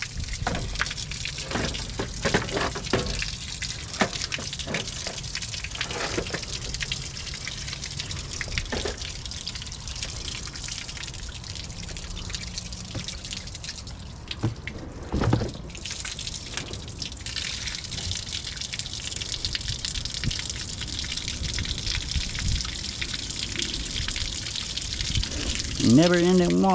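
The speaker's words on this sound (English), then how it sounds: "Never ending water." Rainwater runs continuously in a rainy-season scrap yard, a steady gushing and splashing stream with scattered drips and clanks, while someone talks intermittently over it.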